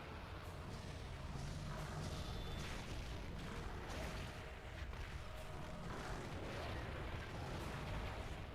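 Explosions in the video game Monster Hunter 4 Ultimate boom and crackle in quick bursts amid continuous battle noise, playing at a moderate level throughout.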